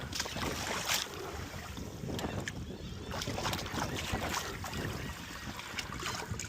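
A dinghy with an outboard engine moves over the water, giving a steady wash of motor and water noise broken by sharp splashes and knocks, with no talking.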